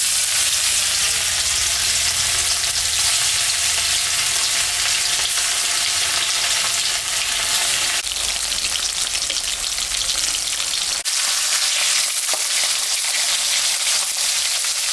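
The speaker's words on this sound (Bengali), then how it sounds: "সর্ষের তেল দিলাম, লবণ দিয়ে দিলাম, হলুদও দিয়ে দিলাম। হয়ে গেছে, আমি এখন মাছটা ভাজবো।" A fish fries in mustard oil with salt and turmeric in a hot wok, giving a loud, continuous, close crackling sizzle that holds steady throughout, with a couple of brief dips, and no one speaks.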